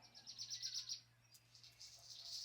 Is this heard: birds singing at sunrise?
yes